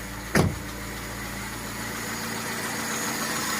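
A VAZ 099 with a 1.5-litre engine and a rebuilt Solex carburetor idles steadily and evenly, close and moderately loud, after a brief sharp knock at the start, with no voices.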